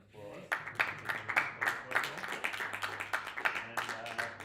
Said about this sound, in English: Well, let's all give Andy a round of applause.